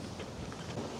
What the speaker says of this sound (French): Bon, désolé pour le vent.